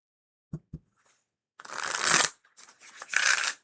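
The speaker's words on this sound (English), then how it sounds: "I can't argue with that shuffle. That was a beautiful shuffle." Tarot cards shuffled by hand during a live reading: two quick taps, then a long riffling burst and a second shuffle, close and crisp in a quiet room.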